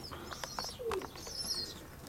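Pigeons being fed in the morning give soft coos and short calls at close range, with light chirps and rustling around them in a fairly quiet outdoor setting.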